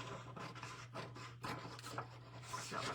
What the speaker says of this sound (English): So sanding it, we're trimming it and sanding it.